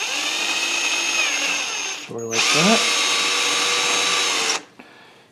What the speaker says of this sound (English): We're going to drill a hole through there.